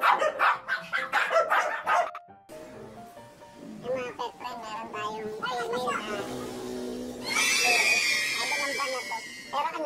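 A dog barks in a loud cluster of sharp yelps at the start, then whines and whimpers follow, with a person's voice talking alongside and a higher noisy stretch near the end.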